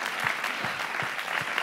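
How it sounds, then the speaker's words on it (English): A seated audience applauds legacy leavers at a talk, a soft continuous patter of many hands clapping at moderate distance, fairly quiet and even throughout. "you'd join me in just a round of applause for every legacy leaver"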